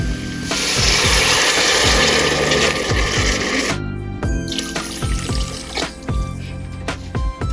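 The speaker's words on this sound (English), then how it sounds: "And then I'm going to start adding in my water." Water is poured steadily into a cooking pot holding a smoked turkey wing for Southern collard greens, a loud rushing splash for about four seconds, then tapering into scattered drips, clinks and small knocks.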